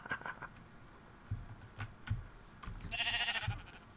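Sheep bleat in a video game, a couple of short bleats, with soft game clicks and thumps around them, fairly quiet.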